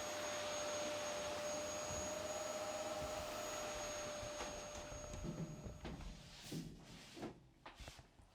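A Hoover vacuum cleaner runs in a garage with a steady, loud broadband roar and a fixed whine, then cuts out near the end, leaving scattered knocks and handling noises.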